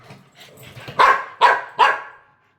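A household dog fighting over a pillow lets out three sharp, loud barks in quick succession, close by, after some fainter low noises.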